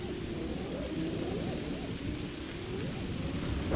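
A low rumble of distant thunder rolls under a steady hiss of falling rain, calm and continuous, swelling slightly at the end.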